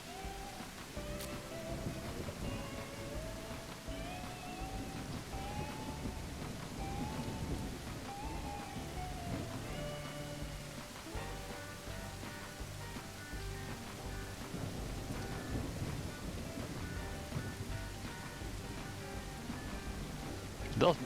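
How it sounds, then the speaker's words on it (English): Steady rain with distant rolling thunder in the train game Railroads Online, a continuous soaking wash at even loudness for the whole stretch, with faint tonal sounds and possible voices drifting underneath. "Oh, there's thunder in the distance."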